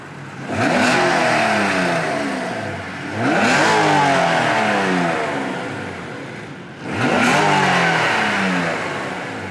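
A car engine revs hard three times in a row with strong induction noise, each rev climbing in pitch and then dropping back, loud and close.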